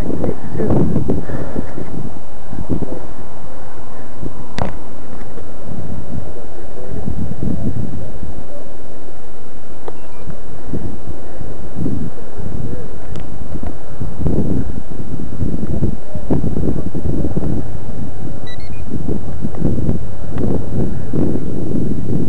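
Strong wind batters the microphone outdoors at a spot where a Hobbyzone Firebird Stratos model plane is being flown, giving loud, continuous rumbling gusts that surge and fade while a person talks underneath.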